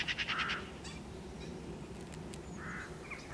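Farmyard birds such as ducks or geese quack and honk in short bursts after an air rifle shot on a still, frosty morning, moderately distant over a low background rumble.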